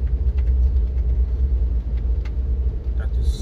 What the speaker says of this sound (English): That is his truck, the one that is the winner of the burning competition